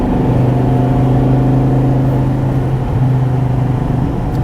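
A 2014 SRT Viper GTS engine drones loudly and steadily in a deep, boomy, sustained tone, with a slight dip in pitch partway through and no talking over it.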